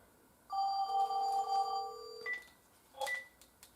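Telephone line of an alarm system ringing after being called, one electronic ring burst followed by a shorter chirp, clear and fairly quiet, with no voices.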